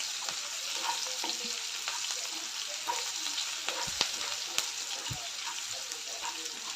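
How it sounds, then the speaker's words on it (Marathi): Onions with a spoonful of salt sauté in a pan, a continuous close frying sizzle under irregular scraping and tapping strokes of a stirring spoon. "त्यामध्येच एक चमचा मीठ घालते म्हणजे कांदा लवकर भाजला जाईल एक दोन मिनटं परतून घेऊया"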